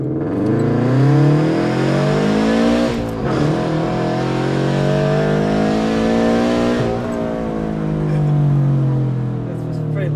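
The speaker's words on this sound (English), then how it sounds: "I'll hit rev limiter" The engine of a 2020 Subaru BRZ revs hard toward the rev limiter, a loud, sustained rising drone heard from close by. It dips briefly in the middle, then climbs again and holds near the limiter.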